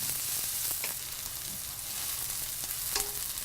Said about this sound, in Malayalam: വെളുത്തുള്ളി, കറിവേപ്പില എന്നിവയിട്ട് ഒരു മീഡിയം ഫ്ലെയിമിൽ വഴറ്റുക